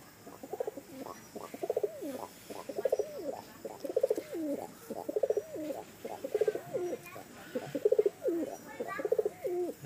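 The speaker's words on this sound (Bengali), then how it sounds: "এই হইতাছে নর কবুতর।" Pigeons, Teddy high flyers, coo in repeated rolling phrases, a steady rhythmic series of soft, throaty calls close by with quiet room noise between them.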